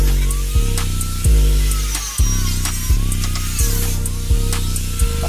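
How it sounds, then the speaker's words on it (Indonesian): A large angle grinder cuts through a bodykit mold for a Toyota Avanza Xenia, whining loudly and steadily up close, with the pitch dropping and jumping back several times as the disc bites into the material. "Untuk pemotongannya saya menggunakan gerinda, karena saya enggak ada gerinda kecil,"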